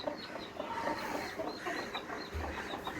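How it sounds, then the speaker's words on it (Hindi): A small chick gives soft, quick clucks and peeps close by among farm birds, several short calls over a faint background with no talking. "इधर एक चिक निकला हुआ था, ये घूम रहा"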